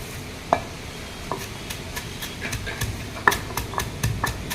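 Roasted coriander seeds, cumin and fenugreek pounded in a stone mortar, a series of sharp, irregular thuds over a steady background hiss, close and moderately loud.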